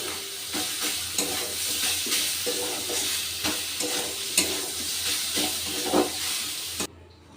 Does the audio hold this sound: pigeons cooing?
no